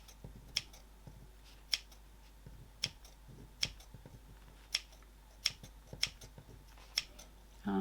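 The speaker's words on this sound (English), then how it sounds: "keep it slightly less and snip away" Scissors snipping into the curved seam allowance of fabric, about nine evenly spaced crisp snips, close and quiet with no talk.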